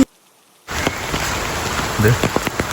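Rain pours down near a house, a close, even wash of drops on hard surfaces that starts abruptly after a short silence and carries on with scattered louder patters.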